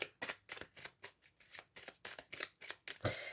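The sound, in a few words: cutting a deck of oracle cards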